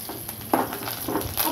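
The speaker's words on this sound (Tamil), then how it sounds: "கடுகு கொஞ்சம் போட்டுக்கலாம். அப்புறம் கருவேப்பிலை கொஞ்சம் போட்டுக்கலாம்." Mustard seeds and curry leaves hitting hot oil, with soft crackling sizzle and a few sharp spattering bursts rising over a quiet kitchen background.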